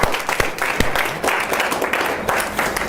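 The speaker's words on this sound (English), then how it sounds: "Let's give Yale a big round of applause." Audience applause after a keynote speech, dense, steady clapping from a sizeable crowd filling the whole stretch without pause.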